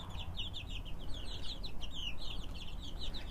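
A hen in a backyard garden gives a run of soft, repeated clucks, fairly close and steady over continuous outdoor background noise.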